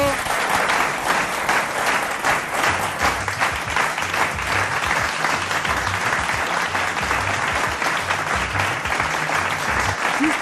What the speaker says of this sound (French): Bravo, bravo, on applaudit très fort.